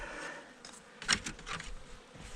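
Agitated honey bees in an opened hive give a low, continuous buzz with a brief louder flare midway, faint and close, without any speech.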